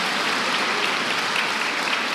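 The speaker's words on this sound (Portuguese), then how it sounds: "dá uma salva de palmas" A church congregation claps together in dense, continuous applause, loud and sustained throughout with no gaps.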